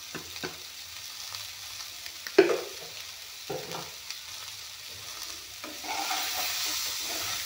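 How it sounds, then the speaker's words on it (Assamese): Tomato and capsicum frying in a pan, a soft steady sizzle with intermittent scrapes and stirring knocks of a utensil, fairly quiet and close. "অলপমান জুইটো কমাই দি ভাজি ল'ম"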